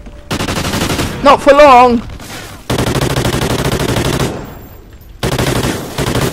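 Rapid repeated shotgun blasts in a Call of Duty Ghosts gun game match, firing in sustained bursts separated by short pauses, with someone shouting briefly between volleys.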